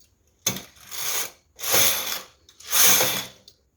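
A knitting machine works a lace pattern, its carriage swept across the needle bed in three separate passes, each a loud, ratcheting mechanical clatter with short pauses between.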